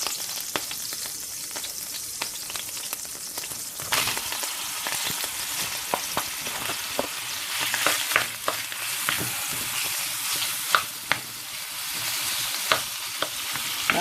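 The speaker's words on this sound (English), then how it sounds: "we're going to do our stew beef. We're going to just sear that a little bit" Stew beef sears in the grease and juices left from browning ground chuck, giving a steady close sizzle with frequent scraping and stirring clatters and sharp spatter pops, with no talk.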